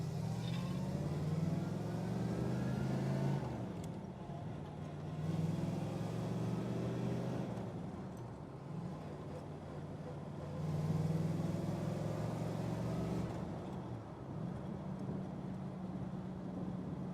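A 1961 Chevrolet Corvette "Fuelie" with a fuel-injected engine pulls under throttle while driving, its steady engine drone rising and easing in repeated surges, close and continuous with no talking.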